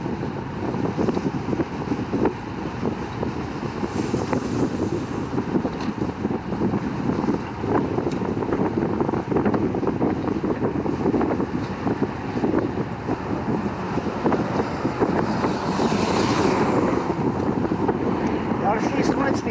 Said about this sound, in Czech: ale máme lehce vítr, no